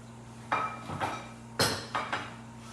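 A sauté pan handled in a cooking-skills lesson, giving several sharp metallic clanks and knocks in two pairs against a steady low hum, moderately close.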